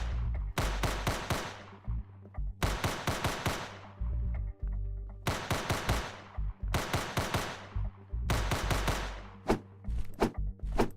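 Gunfire in a video game demo: rapid bursts of sharp, punchy shots come in several clusters over about eleven seconds, with short gaps between volleys, loud and close.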